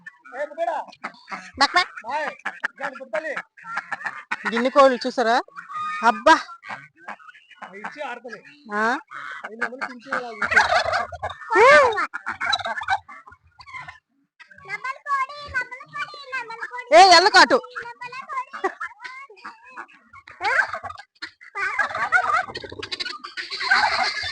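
A flock of ducks quacks and honks repeatedly close by, in uneven bursts, while a person calls out and talks over them.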